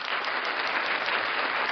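Brief crowd applause cued for the New York Liberty, WNBA champions, a dense steady wash of clapping with no talk.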